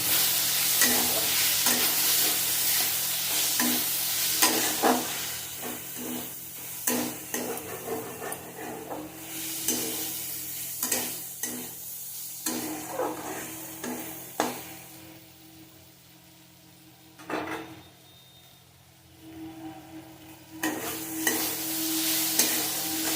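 Green tomato and potato being stirred in a pan with slit green chillies, grated ginger and turmeric powder, a steady sizzle with repeated scraping and knocks of the spoon against the pot, a quieter patch midway before the stirring picks up again.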